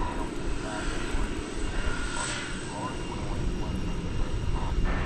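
At DFW Airport at night, an airplane rolls for takeoff with a broad, rising engine roar heard from a distance, building slightly toward the end alongside faint background activity.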